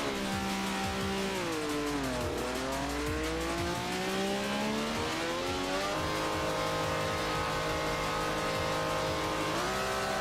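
A Toyota Trueno in a racing video game revs hard through the gears, its raspy exhaust note climbing and dropping steadily and loudly throughout, without talking.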